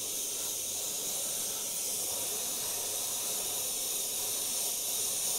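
An airbrush sprays paint onto a skull artwork with a continuous, soft, airy hiss that holds steady throughout, close and unbroken, with no voices.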